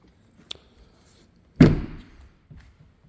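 The door of a Rimor Evo 95+ motorhome shutting with one loud solid slam, with a light tap just before it and a small knock after.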